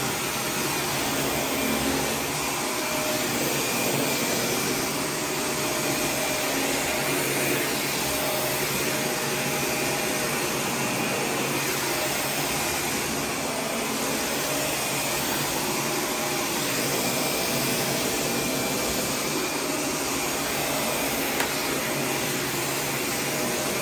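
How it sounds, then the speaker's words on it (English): A vacuum runs steadily and loudly over a carpeted hallway for the whole stretch, with a constant broadband motor roar and no talking. "So let me start the vacuuming process and get underway."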